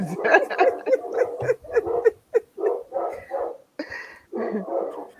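Dogs bark in a rapid series of close, loud woofs and yips, several clustered barks with short gaps between them.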